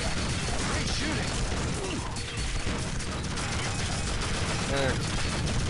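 Chaotic gunfire and explosive crashes fill a battle in the Tribes: Vengeance video game, a dense, loud barrage with voices heard faintly amid the noise.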